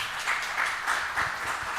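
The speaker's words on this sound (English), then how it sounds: "So please give a huge round of applause to him." Audience applause fills a conference hall at a Python event, a steady wash of clapping with rhythmic swells, moderately loud and close, with no talk over it.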